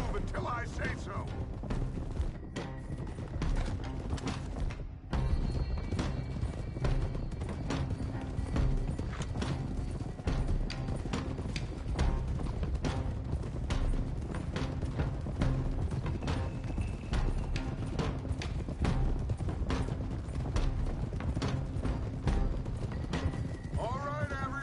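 Several horses ridden at pace in Red Dead Redemption, a continuous rhythmic clatter of hooves with creaking tack and loud music, while voices talk over the riding throughout.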